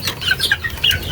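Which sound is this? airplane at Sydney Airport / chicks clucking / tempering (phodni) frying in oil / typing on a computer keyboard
chicks clucking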